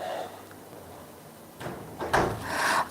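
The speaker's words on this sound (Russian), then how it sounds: "Маркус, закрой дверь." An indoor door closes in a home setting, a wooden knock and clatter near the end after a quiet stretch, fairly close and moderately loud with no talk over it.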